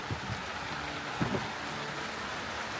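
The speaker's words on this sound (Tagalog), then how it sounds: "At bumagsak po ang ulan." Rain falls on a farm in a steady, soft hiss of drops, faint and continuous, with a few low thumps underneath and no voices.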